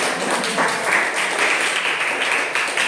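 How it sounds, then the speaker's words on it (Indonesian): An audience at an Indonesian-language debate competition applauds, a steady wash of many hands clapping at even loudness throughout. "Kita berikan tepuk tangan yang"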